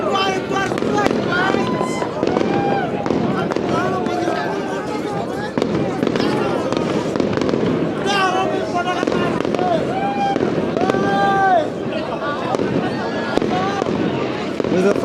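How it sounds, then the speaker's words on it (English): Dense New Year fireworks over London crackle and boom continuously, a constant barrage of bangs and firecracker pops alongside excited crowd voices and people talking nearby. "Let's get the local fireworks."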